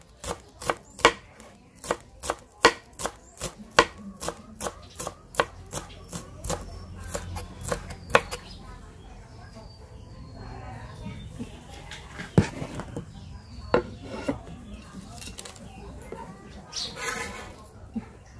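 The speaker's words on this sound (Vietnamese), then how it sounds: "các bạn sẽ băm thiệt nhuyễn như thế này nè" A knife finely minces aromatics on a cutting board for a spicy braised oyster mushroom dish, with rapid rhythmic chopping taps up close that slow and become sparser later.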